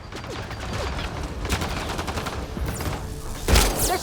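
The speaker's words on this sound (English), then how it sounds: "Just keep firing, we can do this!" Rapid gunfire from a firefight in the video game Mass Effect: Andromeda, a dense continuous volley with a louder burst near the end, with no talking.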